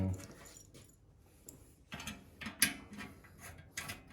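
The cover of a device that guards against accidental gun discharge is closed and screwed back on, producing quiet clicks, ratcheting and small metallic mechanism noises at close range, with a few sharper knocks toward the end.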